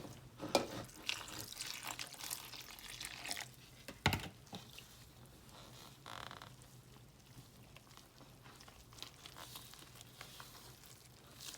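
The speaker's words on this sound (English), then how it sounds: "So we're gonna add the water to the dough." Water trickles and splashes softly at a low level into burek dough, with a few brief louder drips and clinks, steady and close by.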